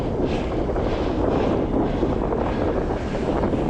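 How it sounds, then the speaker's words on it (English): Bitter cold winter wind roaring across a cyclist's microphone on an open Pennines moorland ride near a reservoir, a constant heavy buffeting rush with no break. "Wow, that wind is bitter cold."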